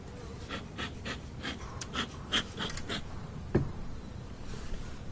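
Honey bees buzzing softly in an opened hive during a synthetic varroa treatment, a low steady drone with faint breathy puffs and a brief knock partway through.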